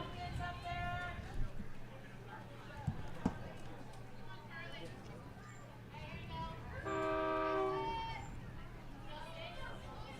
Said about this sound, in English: he's pretty much stopped out there now, honking his horn